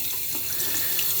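A bathroom tap runs in a steady, close rush of water into a sink during a wet shave, continuous and unbroken with no distinct separate drips standing out.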